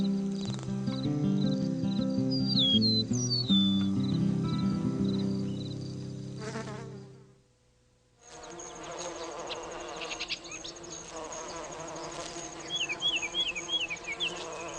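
Solitary bees buzz close by in a garden, a steady insect hum with chirping trills laid over it, broken by a brief near-silent gap before the buzzing returns.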